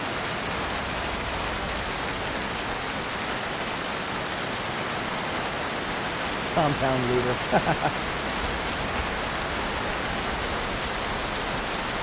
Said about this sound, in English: when we get out of the rain. Hard to hear myself think out here.